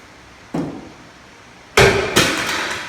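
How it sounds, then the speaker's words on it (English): Hammer striking a rusted VW front end part: one single metallic blow, then two louder clanging hits in quick succession, each ringing briefly, close by. "I'm going to do a super technical thing and hit it with a hammer a couple times"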